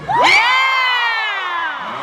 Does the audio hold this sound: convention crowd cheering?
yes